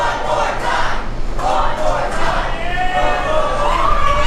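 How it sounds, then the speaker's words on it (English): A wrestling crowd at a live show chants loudly in unison, a dense roar of voices rising and falling in waves close to the microphone. "Crowd chanting for that beautiful springboard moonsault one more time."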